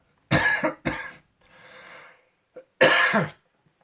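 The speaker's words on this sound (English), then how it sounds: "She didn't cough, that was just me." Several sharp coughs, two quick ones followed by a breathy rasp, a short catch, then one more harsh cough, close and alone.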